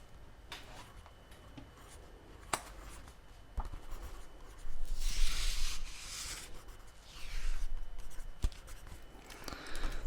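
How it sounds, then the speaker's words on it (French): A pen writes on paper close up in a quiet ASMR role-play setting. Soft scratching strokes come in uneven bursts, with a few light taps in between. "Je finis d'écrire."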